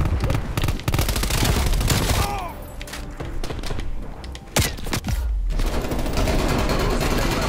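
Dense, loud automatic gunfire rattles almost without pause in a Call of Duty Cold War hardpoint multiplayer match, with a few heavy thumps and a short lull midway before the shooting resumes.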